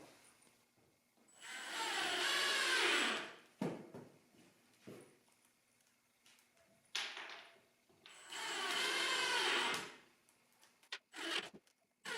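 A power drill drives screws into camper floor boards in two loud whirring bursts of a few seconds each, separated by quieter knocks and handling clatter.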